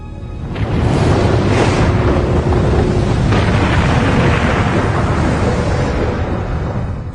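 A huge volcanic eruption explosion, a deep sustained roaring boom that swells in about a second and rumbles on loud and dense for several seconds.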